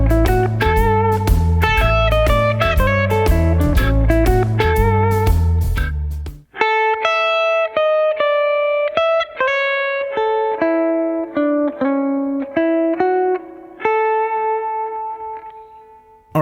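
An electric guitar plays a chromatic blues lick over a backing track, first with dense accompaniment, then as distinct sustained notes with effects and echo, loud and close throughout.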